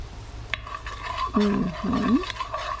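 A browning roux being stirred in a pot, soft scraping strokes and a faint sizzle close by, with two brief louder swirling passes near the end.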